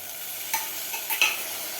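Cowpeas and potatoes being stirred into masala inside a pressure cooker, with a few soft scraping strokes and light sizzle, fairly quiet and close, no talk.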